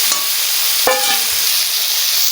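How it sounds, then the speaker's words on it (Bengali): Prawns frying in hot oil, a loud, steady hiss of sizzling with one sharp clink partway through. "আমরা চিংড়ি মাছ দিয়ে দিলাম"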